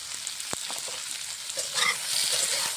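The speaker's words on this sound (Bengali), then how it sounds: "সবজিটা ভালো করে ভেজে নেব" Raw plantain and brinjal pieces, seasoned with salt and turmeric powder, fry in hot oil with a steady close sizzle. A few light stirring scrapes cut in, and the sizzle grows a little louder toward the end.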